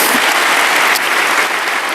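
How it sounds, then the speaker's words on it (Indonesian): A church congregation claps together in sustained, dense applause, a loud even wash of many hands filling the room for the whole stretch. "Berikan tepuk tangan kita untuk Tuhan kita."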